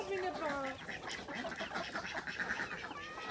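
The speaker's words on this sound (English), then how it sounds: "We've got a mixture of normal ducks and muskies under one." A mixed group of normal and Muscovy ducks quacks in a busy, overlapping chatter with a few higher peeps, close but not loud, with a voice briefly heard.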